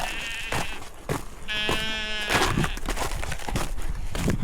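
Sheep bleating nearby on a smallholding, one clear drawn-out bleat in the middle among shorter rustles and knocks, with flies buzzing faintly.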